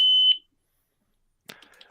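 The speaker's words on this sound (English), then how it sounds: "You definitely can adjust the beep on these special time ones." Electronic shot timer beep, one sharp high tone lasting about a quarter second, loud and close, followed after a pause by faint clicks and handling noises.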